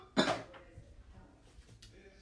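A single sharp, fairly close cough from a woman getting over a lingering cough, followed by quieter breathing and faint movement.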